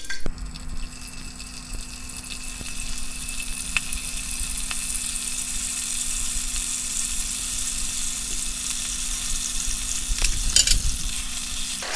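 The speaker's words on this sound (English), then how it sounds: "So now we're just going to place in our beef and start frying it." Beef sizzles and crackles steadily in hot oil, a constant close frying hiss with occasional pops and a faint hum beneath.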